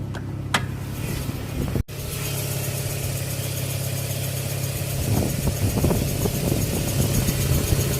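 A smooth, steady Mazda RX-8 rotary engine idles close by with an even hum, a brief click near the start, and no voices.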